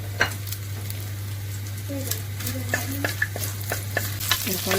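Spices frying in hot oil in a pan, a steady crackling sizzle with frequent spoon scrapes and clicks against the metal, under a low constant hum.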